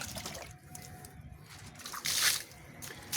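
Water sloshes and splashes while an outdoor Haier DC inverter AC unit is washed on a rooftop, with an uneven, close wet rush that swells into louder bursts near the end.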